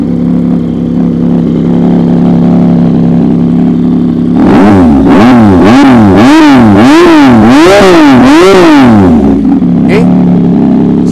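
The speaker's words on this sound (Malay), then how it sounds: "So bunyi Austin Racing memang syahdu lah guys." A 2022 Yamaha MT-09 with an Austin Racing exhaust idles, then revs hard in a series of rising and falling blips, loud and close, before settling back to idle; a brief word is spoken.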